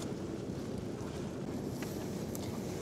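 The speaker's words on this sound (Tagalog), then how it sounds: "Binabayo na tayo dito ng hangin." Strong wind gusts steadily across an open beach campsite at Estanza Beach, a continuous, fairly faint broadband rush buffeting the microphone with no break.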